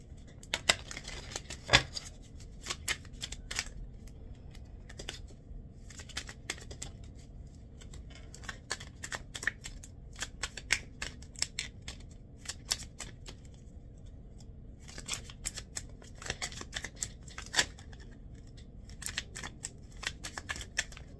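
A deck of new playing cards is shuffled over and over in bursts of rapid riffling clicks and flutters, separated by short quiet gaps, close and fairly soft, with no voices.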